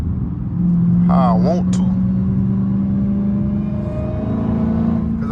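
A Dodge Hellcat's engine drones at a low, steady pitch while driving on a slightly damp road. Its rumble carries on continuously beneath a man's speech.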